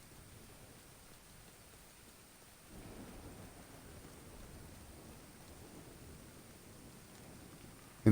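Rain and thunder in a video game: a faint, steady hiss of rainfall with a low rumble of thunder that swells slightly after a few seconds and carries on to the end.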